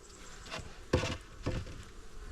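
Honey bees at a hive entrance during a trickle treatment check, a faint steady buzz with a few louder passes as individual bees fly close to the microphone.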